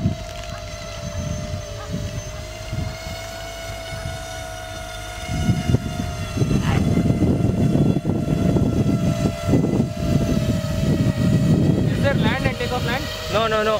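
A drone at Francazal airport in Toulouse, France, holds a steady high-pitched motor whine as it flies and lands, while wind rumbles close by and people talk throughout.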